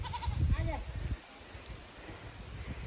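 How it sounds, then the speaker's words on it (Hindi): A herd of goats on a steep mountain slope near the Vriddh Jageshwar temple gives a quick run of wavering bleats up close, then they fade into quiet outdoor ambience with low talk. "आंटी ने आवाज़ लगाई और सारी बकरी आ गई।"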